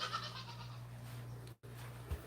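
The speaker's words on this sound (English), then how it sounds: "The goat pen in the backyard." A goat bleats in a backyard pen, a few faint, quick cries early on over a steady low hum.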